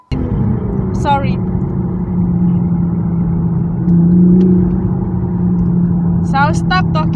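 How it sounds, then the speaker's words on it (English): A 2020 Toyota Supra with its factory exhaust, the engine holding a steady, loud mid-pitched drone that swells around the middle, with brief squeaky sounds at the start and end and no talking. "let you guys enjoy the engine noise"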